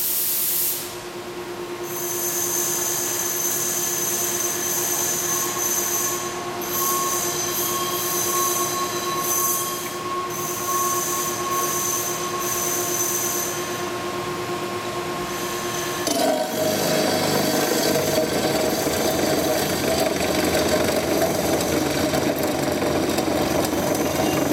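A Doringer D350 SA cold saw cuts through metal stock, giving a loud, steady high-pitched whine and grinding that shifts into a harsher, rougher tone partway through as the blade bites deeper.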